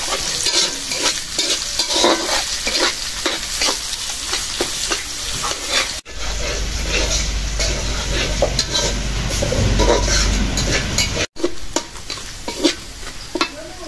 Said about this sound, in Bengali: রসুনটা ভেজে দিচ্ছি, মানে একটু ছুঁলে ছাতা করে দিচ্ছি